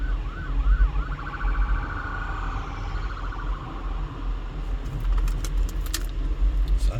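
An ambulance siren wails with a rising and falling tone over steady traffic rumble on a Las Vegas street, fading as it passes, with brief jingling near the end.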